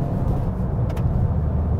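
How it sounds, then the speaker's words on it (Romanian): Toyota hybrid car driving, a low, steady engine and road drone heard from inside the cabin, moderately loud and even, with a brief faint higher tone partway through. "Și motorul ăsta destul de turat."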